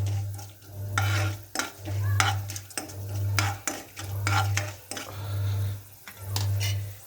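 A spoon scrapes and stirs tempering spices in a pan in rhythmic strokes over a steady sizzle of hot oil on high flame, close up, with no talking.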